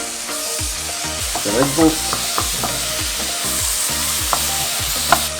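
Red onions caramelizing in a pan for a red onion tart give a steady sizzle broken by spatula scrapes and clinks, with a short spoken remark near the start.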